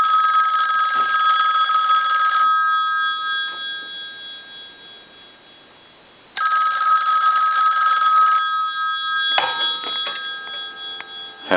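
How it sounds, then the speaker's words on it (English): A Western Electric 233 payphone's bell rings loudly in long electric bursts during repair testing, pausing between rings, then a sharper clattering ring near the end; close and clear. "We're going to ring it one more time."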